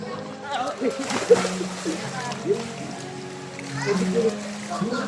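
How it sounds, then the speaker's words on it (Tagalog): People splashing about while swimming, light intermittent splashes and sloshing under frequent talking and children's voices close by. "Langoy daw, langoy daw, langoy."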